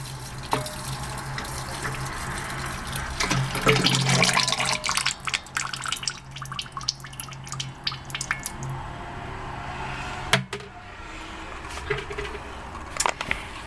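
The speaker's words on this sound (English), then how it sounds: "I'm going to really slowly off to the side pour in my lye." Lye solution poured slowly down the side of a container while making homemade transparent soap, giving a close, steady liquid trickle with dripping and splashy spatters, one sharp clink near the end, and no talking.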